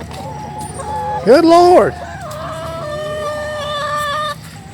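Backyard chickens cluck and squawk close by, with one loud burst of excited calls standing out, and someone speaks briefly over the flock.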